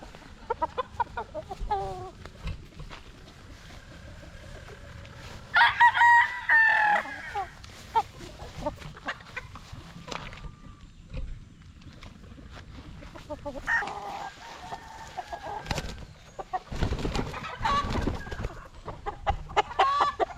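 A stag rooster crows in clear bursts with softer clucking between, close by amid quiet farm background.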